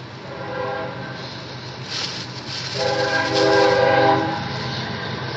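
A train rumbles past with a steady rolling roar, and a loud, sustained multi-tone horn blares midway through before fading back into the passing noise.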